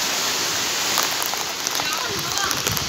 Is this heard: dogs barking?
no